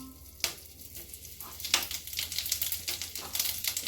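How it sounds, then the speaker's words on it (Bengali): Whole garam masala, bay leaves and cumin tempering in ghee and oil, a quiet crackling sizzle broken by sharp spattering pops and quick stirring scrapes, close and fairly soft. "ফোড়নটাকে কয়েক সেকেন্ড একটু নাড়াচাড়া করে দিয়ে দেবো"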